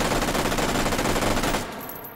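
FAMAS carbine fitted with a muzzle brake firing in the VR game H3VR, a loud, rapid, continuous automatic burst close up that stops abruptly near the end, with no talking.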